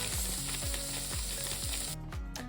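Mince frying in a pan being stirred, a continuous sizzle with soft scraping strokes, close and steady, with background music underneath.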